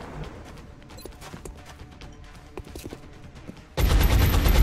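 XCOM video game gunfire, scattered sharp shots and clicks at first, then a sudden loud sustained burst of fire near the end.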